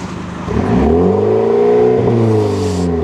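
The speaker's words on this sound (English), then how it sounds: "Put it in sport and try revving it again." A BMW M135i engine in sport mode revving up against its soft limiter, a loud, sustained rising drone that holds near the cut-off and dips slightly, close by with no talking.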